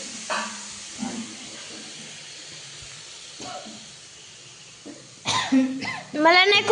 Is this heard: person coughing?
yes